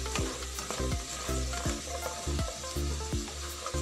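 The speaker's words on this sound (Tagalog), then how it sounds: "Stir fry lang natin hanggang sa medyo malupo." Potatoes and green beans stir-fry in a hot pan with a loud, steady sizzle, broken by a regular series of sharp spatula scrapes and tosses roughly every half second.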